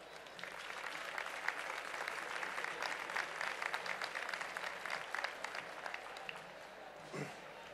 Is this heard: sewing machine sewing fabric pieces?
no